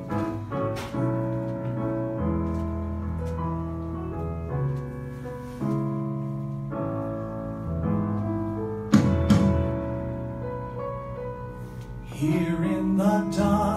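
A woman sings a ballad from the film Camp in a small theatre cafe pantomime, held notes over sparse accompaniment at moderate loudness.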